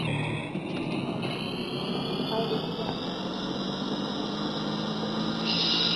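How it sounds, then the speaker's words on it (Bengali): An auto-rickshaw engine in the game Indian Bikes Driving 3D drones steadily with a rising whine, loud and continuous throughout. "হ্যাঁ, এটা অটোর আওয়াজ।"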